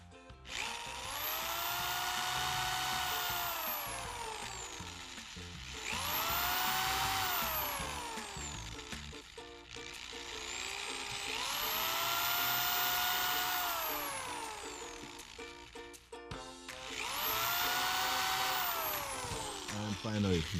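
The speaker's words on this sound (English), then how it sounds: "then you could drill your holes with your drill" An electric drill bores holes through a wooden board for a homemade coffee pour-over stand. Four long whining runs each spin up, hold and wind down, loud and close, with no talking.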